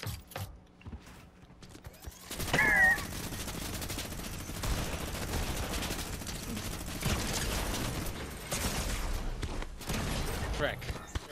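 A minigun firing in Fortnite: a sustained, dense mechanical roar of rapid fire running for several seconds, loud and continuous, with players talking over it.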